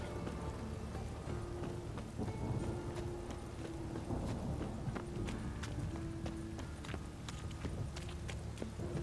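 Steady rain falls over a city in The Witcher video game, a continuous hiss of drops pattering on surfaces, mixed with scattered sharp taps and a low rumbling bed throughout.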